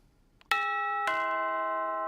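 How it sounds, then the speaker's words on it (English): A household doorbell chimes twice, a clear ding-dong with bright ringing tones that sustain and fade slowly in a quiet room. "We got doorbells."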